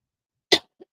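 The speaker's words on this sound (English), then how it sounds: "Sorry guys, I cough." One short, sharp cough followed by a faint second little cough, close up in otherwise silent surroundings.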